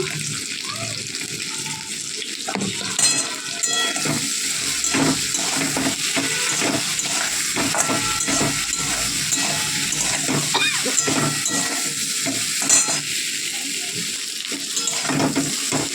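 Spices with salt and turmeric frying in a pan, a continuous close sizzle and crackle with occasional stirring clatter, fairly steady in level throughout.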